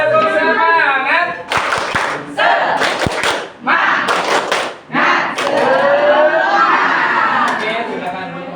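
A group of schoolchildren and teachers in a classroom do a rhythmic cheer clap, with bursts of loud unison clapping and thumps mixed with energetic chanting and shouting voices.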